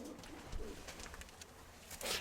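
Pigeons coo softly at a pigeon fair, a few close, low, throaty calls against a busy, murmuring background.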